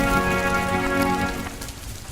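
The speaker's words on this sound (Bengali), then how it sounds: "এত বৃষ্টি আমি আমার জীবনে দেখিনি গো" Heavy winter rain pours steadily with a dense hiss of drops, mixed under sustained musical tones, easing slightly toward the end.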